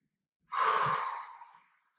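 A single deep, breathy inhale during yoga breathing, drawn in quickly and then tapering over about a second, close and clear against silence.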